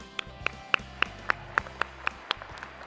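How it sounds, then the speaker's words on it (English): Sparse, separate claps ring out at a gala dinner, about ten sharp hand claps spaced roughly a quarter second apart, fairly close and not building into full applause, with a low hum of the room underneath. "they really deserve a huge round of applause"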